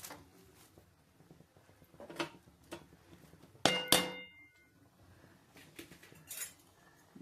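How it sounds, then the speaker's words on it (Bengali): Dal and spinach being mixed in a cooking pot, with scattered metal clinks and scrapes of a spoon against the pot and one louder clattering burst midway, quiet in between. "এবার এর ভিতরে সব মিশিয়ে দেবো, কারণ ডালের সাথে সাথে শাকটাও সিদ্ধ হয়ে যাবে।"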